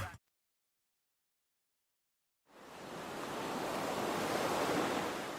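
Pacific Ocean surf off the California coast: after a short click and a stretch of silence, a broad hissing wash of waves swells up and holds steady, loud and unbroken, with no voices.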